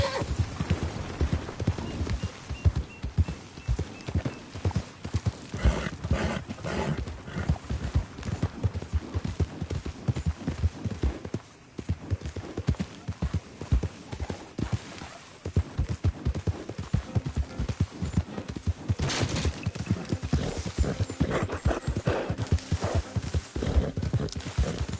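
Horse in Red Dead Redemption 2 galloping with rapid, loud clip-clopping hoofbeats throughout, along with neighing and whinnying, close and continuous with a brief pause midway.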